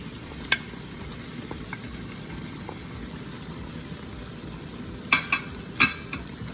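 Aubergines and fish go into a cooking pan, a low steady sizzle broken by a few sharp clinks and scrapes of utensils against the pan, close and otherwise quiet.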